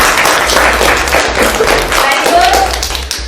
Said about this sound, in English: clap for him everyone.